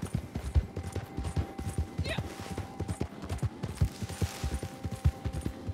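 Horse hooves clip-clopping in Red Dead Redemption II Online, a steady rapid rhythm of thuds close by with occasional game sounds and a voice talking over them.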